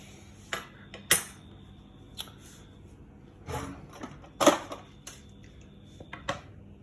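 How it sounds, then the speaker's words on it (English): A teaspoon scrapes and grinds cal mag granules against the side of a glass, giving scattered quiet clinks and gritty scrapes at irregular intervals, a couple of them sharper and louder. "We're just sort of crushing this stuff up the side of the glass."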